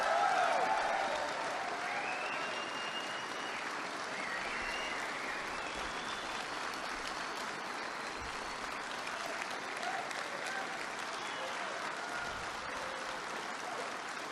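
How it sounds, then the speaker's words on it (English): An audience at a law enforcement event with President Trump applauds in a dense, sustained wash of clapping that stays fairly even and moderately distant for the whole stretch. "Were you applauding for someone in particular?"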